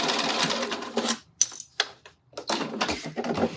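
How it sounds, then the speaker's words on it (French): A sewing machine stitches a fabric seam in close, rapid bursts of mechanical clatter, stopping and starting with brief pauses between runs; no one speaks. "je fais ma couture pour un bras"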